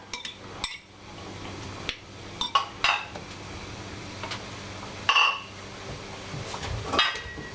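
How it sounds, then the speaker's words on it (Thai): Dishes and cutlery knock and clink while a mushroom salad with chicken breast and shrimp is plated onto a flat plate. Sharp, irregular clatters are spaced through a quiet kitchen, with a few brighter rattling clinks. "เดี๋ยวเรามาจัดจานกันค่ะ"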